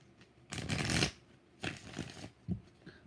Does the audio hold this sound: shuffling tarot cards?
yes